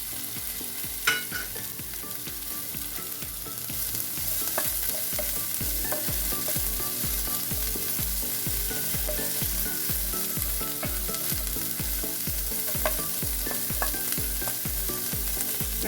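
Two medium-sized finely chopped onions fry in a pan, a continuous close sizzle under a steady, regular rhythm of stirring strokes that runs throughout with no talk.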